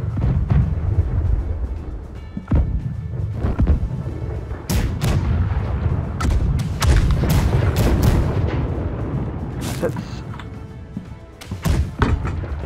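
Ship cannons in the naval game Blackwake fire in a long, irregular barrage of heavy booms and sharp cracks, some close and loud, others overlapping into rumbling volleys over continuous ship and sea noise.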